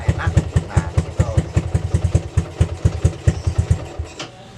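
A motorcycle engine in a village mechanic's workshop, due for a bore-up rebuild, is revved with the throttle in quick repeated bursts, loud and close, with a rhythmic chugging pulse.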